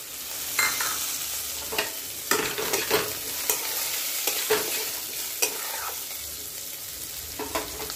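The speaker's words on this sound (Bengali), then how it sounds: "সবজিগুলো ভাজা হয়ে গেছে, এরপর বাদামগুলো দিয়ে দেবো" Vegetables and peanuts fry in a pan, cooked with salt and turmeric. Steady sizzling is broken by repeated scraping stirs at an uneven rhythm, close and clear, with no talking.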